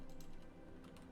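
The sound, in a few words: typing on a computer keyboard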